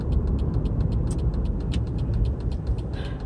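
A car drives home on the road with a steady, close rumble of engine and tyres and a soft, rhythmic ticking above it. No one speaks.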